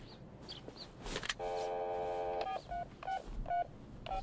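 Touch-tone telephone number being dialed, a long steady dial tone followed by a rapid run of short, clear DTMF key beeps, with no talking.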